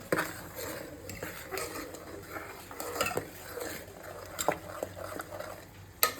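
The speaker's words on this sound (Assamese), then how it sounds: "আৰু এইফালে ক্ষীৰ উতলি আছে" Rice kheer, a milk pudding, bubbles in a pot on the stove, a soft simmering hiss beneath intermittent clinks and scrapes of a spoon against cookware, close by and moderately quiet, no one speaking.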